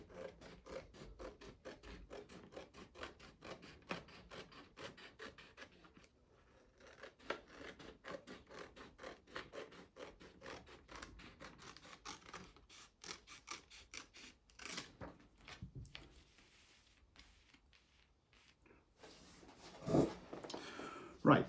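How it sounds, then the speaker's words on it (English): Scissors snipping the edges of laminated luggage tags, a quiet run of rapid crisp cuts and scraping with brief pauses, closing in louder clipping near the end. "So I just cut them with my scissors,"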